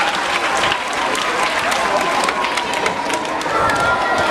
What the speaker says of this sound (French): Courage. Applaudissez.